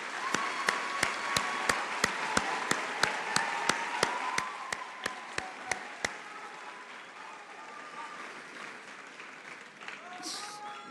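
Audience applause at a university commencement ceremony, a steady wash of many clapping hands with a few loud, evenly spaced close claps standing out over the first six seconds, then the crowd fading as voices begin.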